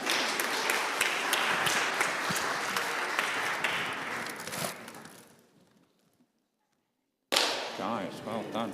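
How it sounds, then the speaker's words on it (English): Audience applause, dense and loud for about five seconds, fading to near silence before another burst of clapping and cheering resumes. "Give these guys a round of applause."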